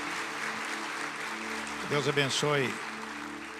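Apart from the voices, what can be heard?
church congregation applause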